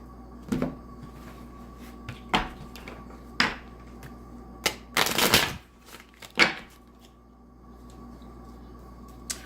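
Tarot cards are shuffled by hand in several quick riffling bursts separated by pauses, close and fairly soft, with one longer flurry near the middle.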